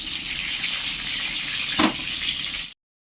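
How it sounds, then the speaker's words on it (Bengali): Guri kochu taro pieces fry in hot mustard oil, a continuous bright sizzle with a single utensil knock partway through before the sound cuts off abruptly. "কচুগুলো অল্প ভেজে নেব।"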